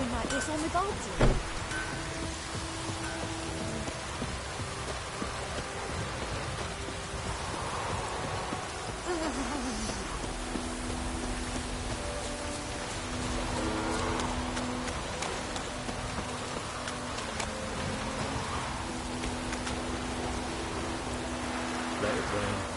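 Steady rain hisses throughout in The Witcher 3: Wild Hunt, with occasional voices speaking over the constant downpour.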